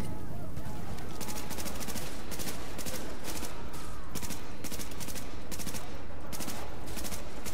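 Rapid automatic gunfire and explosive bursts in the video game Tom Clancy's The Division, repeated sharp cracks in quick runs over a dense roar of in-game combat noise.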